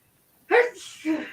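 A single sharp sneeze bursts out close and loud, followed by a brief trailing vocal sound at the end.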